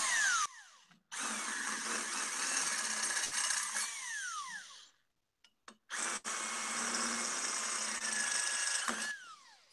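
A power drill bores a quarter-inch hole in a bicycle fork during custom fork building. The whine is loud and close, running in two long bursts split by a brief pause, with pitch shifting as the motor loads and spins down.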